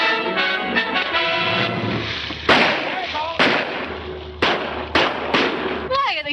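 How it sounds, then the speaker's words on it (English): Gunshots fired at a man in a 1940 Hollywood action film, several sharp, loud cracks spaced a second or so apart with echoing tails, heard over sustained background music. "Why are they shooting at him?"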